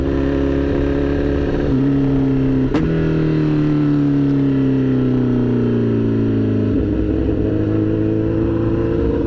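A Honda CBR 1000RR sport motorcycle engine with a broken-off exhaust roars loudly and steadily, its pitch rising and dipping through several gear shifts as it accelerates, close by.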